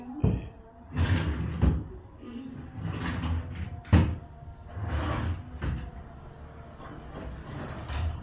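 A furniture drawer slides open and shut several times in a furniture shop in Aceh, producing repeated wooden rumbles and knocks at close range with short pauses between them.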